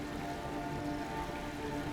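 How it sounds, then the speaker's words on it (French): Steady rain falls in the video game Cairn, an even, continuous hiss of drops with no other sounds. "La pluie ne va pas tarder à s'arrêter."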